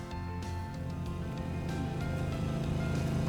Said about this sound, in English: I know the sound of that engine.